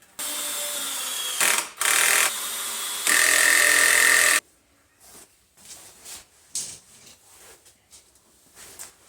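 A power drill drives pocket hole screws into wood in loud high whining bursts, one short and one long, followed by quieter knocks and shuffling of the workpiece on a table.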